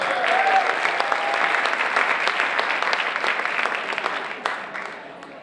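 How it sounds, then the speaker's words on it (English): A crowd at a high school distinguished alumni ceremony claps in sustained, dense applause that stays fairly strong before tapering off near the end, with a few sharper individual claps standing out. "Let's give one more round of applause"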